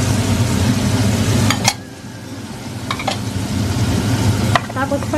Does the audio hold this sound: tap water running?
no